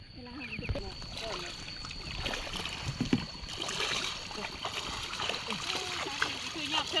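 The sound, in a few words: flowing water splashing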